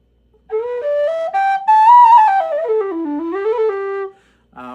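A newly made low whistle, likely aluminum, plays a slow melodic phrase of sustained, breathy notes that glide up and then down, close and clear, ending with a brief new note.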